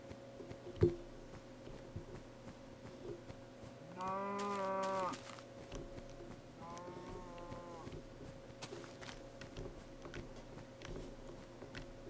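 Two drawn-out cow moos from Minecraft, one after the other, over a quiet steady background hum, with a single soft thud near the start.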